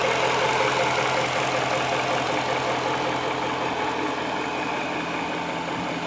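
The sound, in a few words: Jaguar XJR supercharged 4.0 litre engine idling in S-Type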